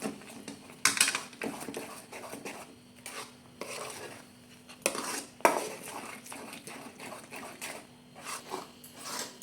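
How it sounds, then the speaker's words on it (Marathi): Mango semolina sheera with dry fruits is stirred in a pan, with repeated close scraping and clinking of a spoon against metal in an irregular rhythm, no talking. "चांगलं ह्याला आपण मिक्स करून घेऊ"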